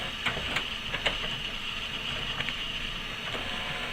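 An HP Pro X476 ink tank printer prints onto photo paper, giving a steady mechanical whir with faint repeated clicks and ticks from the paper feed, running alone and fairly close.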